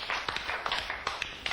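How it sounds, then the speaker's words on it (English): A classroom of children gives a short burst of scattered clapping after a correct answer, quick uneven claps with a faint roomy echo. "And applause when the answer was right"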